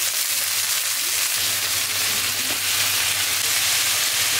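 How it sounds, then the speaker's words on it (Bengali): Panch phoron five-spice frying in hot oil in a home kitchen, a soft steady sizzle and hiss running throughout with a faint low hum beneath, no talking. "পাঁচ ফোড়ন দিয়ে ভালো করে ভেজে নিতে হবে"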